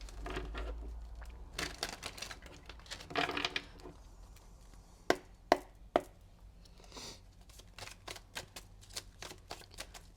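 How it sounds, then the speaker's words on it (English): Tarot cards being shuffled by hand: quick papery riffles and soft slaps, with a few sharp, close clicks around the middle, steady and fairly quiet, with no talking. "We'll do one more shuffle."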